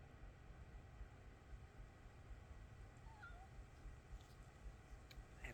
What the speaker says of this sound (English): I have a kitty cat here.